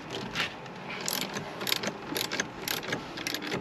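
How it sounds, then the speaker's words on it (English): Torque wrench ratcheting in short clicking bursts while tightening fittings for steering wheel controls on a Porsche 911 991.2 Carrera S, close and moderately quiet, with no talk. "So the F setting on the torque wrench."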